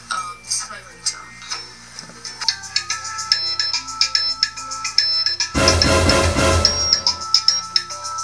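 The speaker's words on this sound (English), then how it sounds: "This is my ringtone." A bright electronic phone ringtone plays a rhythmic melody of repeated beeps, joined midway by a loud burst of noise, with a voice over it.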